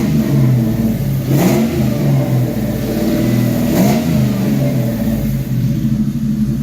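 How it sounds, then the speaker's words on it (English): Ford Mustang with Flowmaster exhaust, stock 2-valve engine, revving in a deep loud rumbling burble with two sharper blips, close and continuous. "Always love the sound of a Mustang with Flowmasters"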